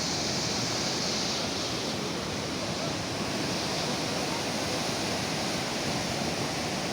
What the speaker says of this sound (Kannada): ಅಪಾರ ಪ್ರಮಾಣ ನೀರು ಹೊಂಟದ್ರದ